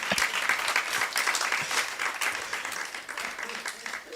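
Steady applause from a crowd at a cybersecurity conference, a dense patter of many hands clapping at once, sustained throughout without pause.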